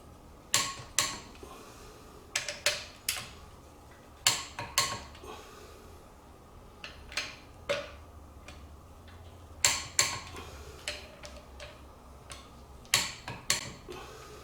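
Ratcheting torque wrench clicks as rear main seal bolts are tightened on a 1951 MG TD, with a pry bar wedged under the crank; sharp metallic ticks come in short repeated bursts, close and clear over a quiet garage background.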